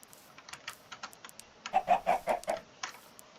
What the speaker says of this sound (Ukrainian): О, є, аж три курки.